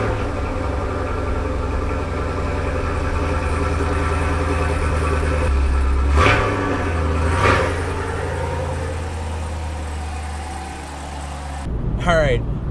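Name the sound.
Chevrolet Camaro SS V8 cold start with stock exhaust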